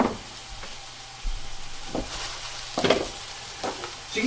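Hash browns fry in oil in a pan, giving a steady close sizzle with occasional louder crackling bursts and faint stirring scrapes, and no one speaks.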